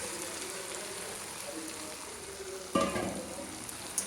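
Chicken pakoras, capsicum and onion fry in a pan with a steady quiet sizzle, a sharper splash of hissing partway through as pieces go in.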